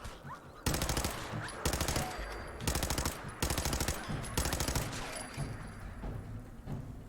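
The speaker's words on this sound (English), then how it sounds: "my Spitfire pipe gun has a little bit more punch now" A Spitfire pipe gun fires in Fallout 4. Five rapid automatic bursts come in quick succession, each a loud rattling volley separated by short pauses.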